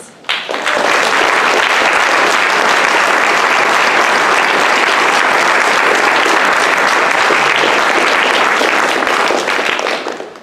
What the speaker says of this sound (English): please let us join together once again to applaud all of the efforts and all of the outcomes of our amazing students